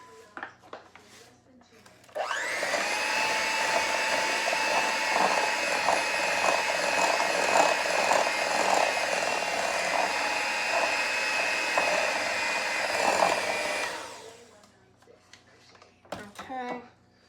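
Brownie batter mixed with an electric mixer after a cup of flour goes in: a loud, steady whirring drone with rattling for about twelve seconds, close, with brief talk before and after.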